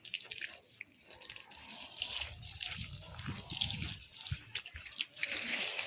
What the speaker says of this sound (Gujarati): અહીંયા મેં આ બાજુ નળી મૂકી દીધી છે એટલે બધેથી પાણી જશે